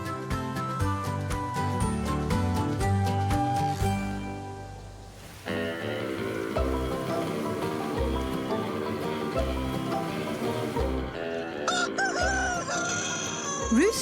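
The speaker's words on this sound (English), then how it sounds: "Roosters may be known as the farm alarm clock" Roosters crow loudly and repeatedly near a farm barnyard, with clucking fowl around them, the calls rising and falling in long drawn-out bursts.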